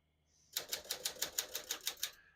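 Keys strike on a 1950 Smith-Corona Clipper portable typewriter, about ten crisp clacks in a quick, even rhythm, close and quiet, with no talk.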